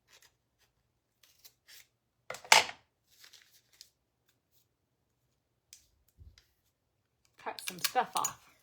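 Scissors cut a sublimation blank in a few short sharp snips, with one cluster early and a denser burst at the end, separated by near silence and faint small handling clicks.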